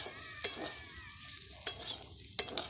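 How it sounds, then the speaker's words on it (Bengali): Potatoes stirred and fried in a pan over a wood-fired stove: a low, quiet sizzle with three sharp spatula scrapes spaced about a second apart, close and alone. "আলু ভাজা ভাজি করছে"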